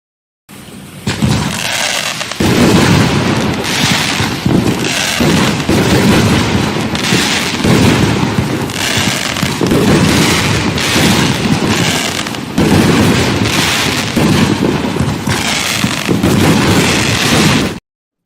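A Fox Fireworks 64-shot assortment fires in a dense, loud barrage of booms and crackling bursts that runs continuously for over fifteen seconds with no talking.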